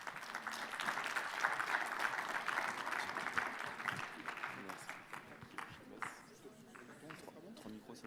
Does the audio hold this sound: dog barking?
no